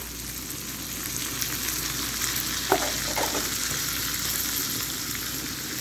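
Garlic and black pepper sizzle in hot oil for a tadka for yellow moong and masoor dal, a dense, steady frying crackle close by, with a couple of faint clinks and no talking.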